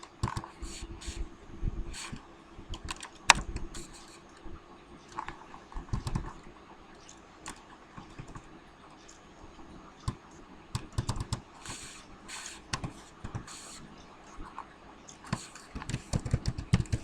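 Typing on a computer keyboard, with quick irregular bursts of clicky keystrokes and short pauses, close and fairly quiet over a faint background hum.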